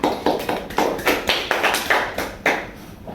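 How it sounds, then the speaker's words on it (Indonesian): Pupils in a school mathematics class clapping together in a rhythmic pattern of about a dozen regular claps, moderately loud and close, with no talk. "Mari kita tepuk tangan"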